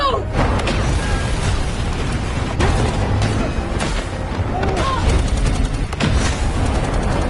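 Film battle against a war machine, an unequal firefight with sustained heavy gunfire, booms and scattered sharp shots over a thick rumbling background, loud and continuous.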